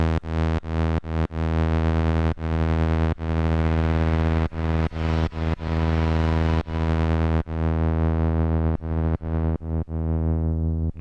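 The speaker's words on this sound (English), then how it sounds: "So now there's an LFO on the panning," A loud, sustained synth drone with rhythmic gated chops, its sound sweeping back and forth across the stereo field as an LFO modulates the panning.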